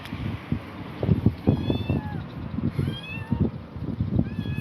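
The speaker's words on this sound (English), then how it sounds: "There is a little kitten there." A small kitten meows in a run of repeated high, rising cries that stand out clearly over steady low background noise.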